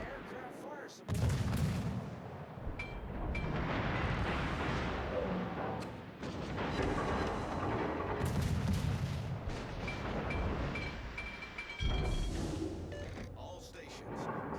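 Anti-aircraft gunfire from a warship in World of Warships, dense rapid bursts of battle fire with booming artillery layered throughout, loud and continuous, with a radio-style voice calling out commands over it.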